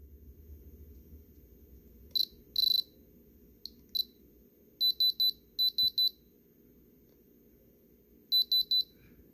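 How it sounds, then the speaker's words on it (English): A diamond tester checks small moissanite stones set in a silver rope chain lock box, giving short bright electronic beeps, some single and some in quick groups of three or four, over a quiet low background hum. "So you see that it does pass the diamond tester."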